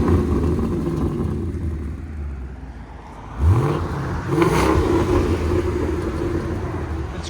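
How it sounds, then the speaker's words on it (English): A 2016 Ford Mustang GT 5.0L V8 with Flowmaster X-Pipe and X-Force valved exhaust, valves closed, idles with a deep rumble, then gives a quick rev that climbs and settles into a throaty drone, close and loud on a cold day. "Now we're going to do valves closed. All right, now valves closed."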